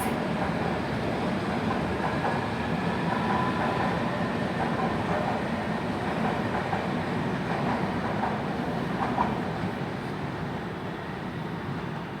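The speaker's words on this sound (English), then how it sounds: "departing out is a Circle line service for Hammersmith" London Underground Circle line train departing Paddington for Hammersmith, a moderately faint rumbling pull-away with low rolling noise and light rail clatter that slowly fades toward the end.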